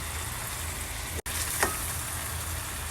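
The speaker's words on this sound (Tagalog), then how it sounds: "yakiniku, pork yakiniku in a pan" Pork yakiniku sautés in a pan with a steady, even frying sizzle that runs throughout, broken by one brief dropout partway through and a small stir or clatter soon after.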